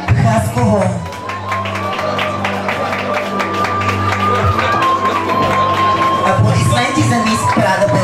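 Audience at a pageant applauds and cheers over steady music, a continuous wash of clapping and crowd noise lasting throughout, loud and fairly close.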